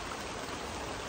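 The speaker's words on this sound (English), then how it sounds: "Oh no, it's raining a lot! Like all of a sudden." Sudden heavy rain pouring down over an outdoor raised-bed garden, a dense, loud, steady hiss of falling water with no gaps and no voices.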